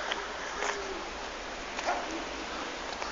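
A couple of faint, distant dog barks on a street at night sound over a constant hiss of background noise.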